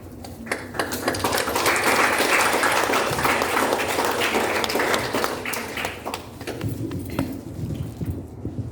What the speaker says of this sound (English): Just a big round of applause for me.